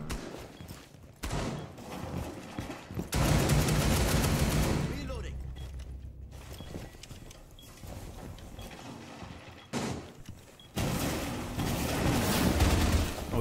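Bursts of rapid gunfire in Rainbow Six Siege hit zombies, with several loud clusters of shots between quieter stretches and people talking over the action.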